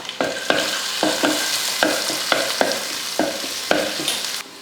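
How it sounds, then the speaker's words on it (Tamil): Small shallots and chopped garlic fry in sesame oil, a loud close sizzle broken by regular scraping stirs of a spoon in the pan, about every half second. "ஒரு நூறு கிராம் அளவுக்கு சின்ன வெங்காயம் ஒரு அஞ்சாறு பூண்டு சின்னதாக வெட்டியிருக்கேன் அதை சேர்த்துடலாம்"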